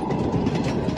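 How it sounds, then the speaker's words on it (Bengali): A night train rushes past with a steady, heavy rumble and a dense rolling clatter, close and continuous with no voices. "একটা রাতের ট্রেন চলে যাচ্ছে।"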